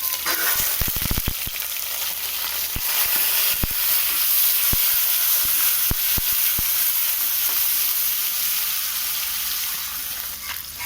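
Onions sauté in hot oil with cinnamon and fennel in a pressure cooker: a loud, dense sizzle with sharp crackling pops in the first seconds that settles into a steady hiss.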